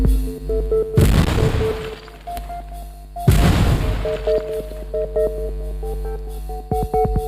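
Two deep, booming blasts with a crackling burst, separated by a few seconds, over steady electronic music and chiming tones in the video game Little Big Robots.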